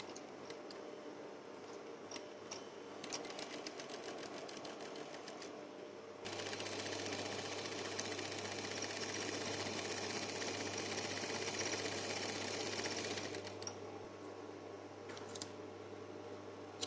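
A sewing machine stitches along the edge of a shirt band in rapid mechanical bursts, running louder and steadier in the middle stretch before stopping and restarting.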